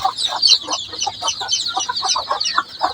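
Two hens cluck repeatedly at close range while fifty brooding chicks peep high and continuously over them. It sounds like a busy farmyard, with no speech.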